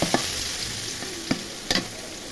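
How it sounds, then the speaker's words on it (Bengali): Chopped onions frying in hot oil while cooking a fish curry with potato and cauliflower, a steady soft sizzle with a few sharp scrapes of a spatula stirring the pan, close up and with no talking. "পেঁয়াজগুলো ভেজে নিব।"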